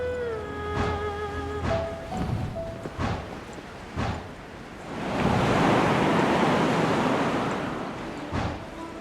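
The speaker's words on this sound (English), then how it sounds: "There's wind up ahead!" Wind rushes through a Genshin Impact game scene, a broad steady gust that swells in the second half, with soft chimes and brief game effects earlier on.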